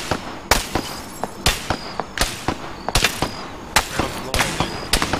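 Gunfire in the Arma 3 military shooter game: repeated sharp shots and bursts cracking at an irregular rhythm, some loud and close, others more distant, with faint voices in the background.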